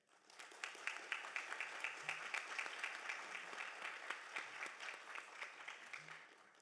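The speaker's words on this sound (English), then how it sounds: "So please give a round of applause for Bryce's amazing work." Audience at a sustainability summit awards session applauds an awardee's work: fairly quiet, distant clapping with distinct individual claps standing out, steady until the end.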